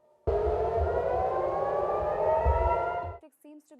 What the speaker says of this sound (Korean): 이란의 미사일 공습에 이스라엘 텔아비브 전역에 요란한 사이렌이 울립니다.